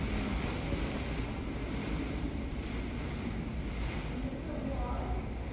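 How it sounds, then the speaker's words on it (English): Strong wind during an intense thunderstorm roars continuously against the microphone, loud and close with no breaks. "Yeah, big wind."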